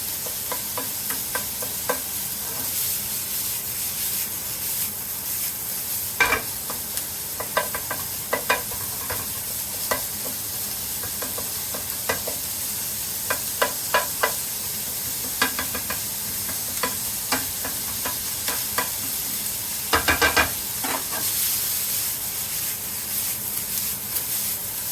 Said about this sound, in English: we got to break that up, because otherwise it's all going to stick together and be lumpy